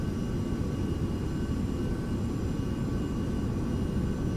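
Even, low jet rumble inside the cockpit of a Carenado 390 Premier IA business jet in a flight simulator during descent and approach, holding a steady moderate level with no speech.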